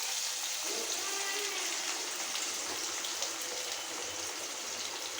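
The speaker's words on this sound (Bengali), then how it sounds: "জিরে জিরে সম্বার দিলাম, তেজপাতা সম্বার দিলাম। আলুগুলো একটু ভেজে নেব।" Potatoes fry in hot oil tempered with cumin and bay leaf, giving a dense, steady, close sizzle and crackle throughout that never lets up, with faint voices in the background.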